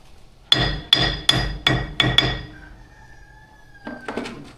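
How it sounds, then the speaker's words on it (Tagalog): Six loud, evenly spaced hammer strikes ring out against a door, each with a sharp metallic clink and short decay, followed by a faint high whine and a couple of softer knocks near the end. "Pinupukpok lang yun. Martilyo."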